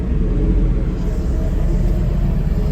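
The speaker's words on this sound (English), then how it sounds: "Thunder and lightning's happening" Low, steady rumble of thunder rolling through a breezy storm near a farmyard where stone and bread are tipped by tractor and trailer, a continuous loud roar with no distinct crack.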